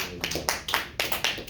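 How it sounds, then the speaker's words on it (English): A couple of people clap in a small room, a short run of about six close, fairly loud claps at an uneven rhythm, with nobody speaking over them. "Thank you for like the 2 people clapping in here."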